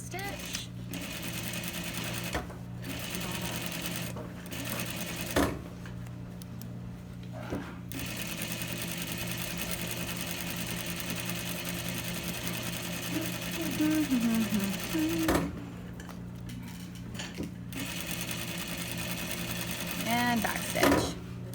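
A home sewing machine with a zipper foot stitches an invisible zipper, whirring in steady runs broken by short pauses and quick reverse bursts, with a person talking over it throughout.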